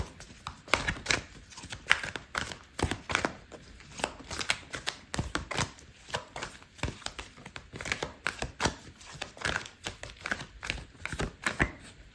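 Tarot cards are shuffled by hand, giving a quick series of crisp, riffling slaps and flutters that repeat in uneven bursts, close and fairly quiet, with no talking.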